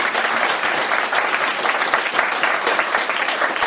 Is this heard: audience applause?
yes